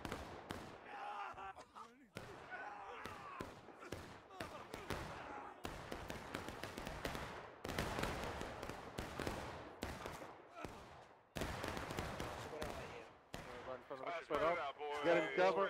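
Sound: musket volley fire in video game War of Rights

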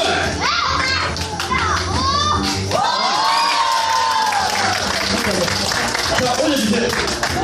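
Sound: audience applause and cheering

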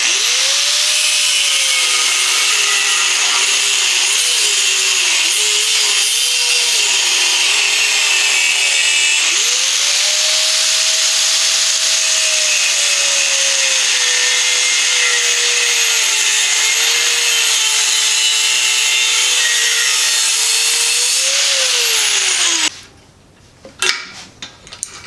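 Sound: grinder breaking out piece of carbon fiber tube

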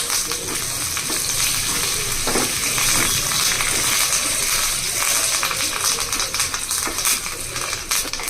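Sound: spices and curry leaves frying in oil

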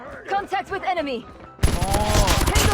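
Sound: MK2 gunfire in video game Call of Duty Mobile

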